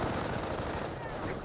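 An MG42 machine gun fires in a World War II real-time strategy game, Company of Heroes 1, a dense, continuous burst of rapid rattling shots that fills the whole short moment amid game noise.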